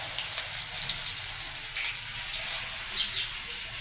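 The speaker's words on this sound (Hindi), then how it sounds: "अब हम इसी तरह रखते जाएंगे और इनको फ्राई करते जाएंगे" Leftover rice kababs frying in hot oil, a steady bright sizzle with light bubbling that carries on evenly and close by, with no voices.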